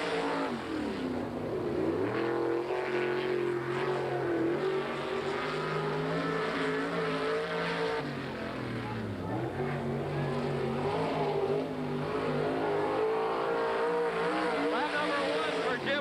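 A Chevrolet-powered sprint car runs a qualifying lap at a 1987 World of Outlaws shootout at Hales Corners, its engine a loud, continuous roar that swells and dips as it drives through the turns.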